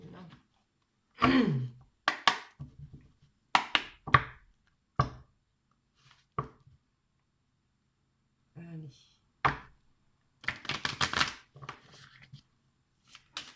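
Oracle and tarot cards being shuffled by hand, in irregular bursts of soft riffling and tapping with pauses between, close and fairly quiet, with occasional brief vocal sounds.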